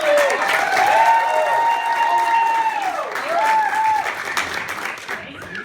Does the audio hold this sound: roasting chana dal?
no